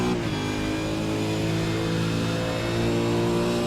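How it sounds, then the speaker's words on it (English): A V8 Supercar race engine recorded on board during a lap of Bathurst, a loud, continuous high-revving roar with steady harmonic drone and no talk over it. "Let's have a listen to his engine and see how he's going."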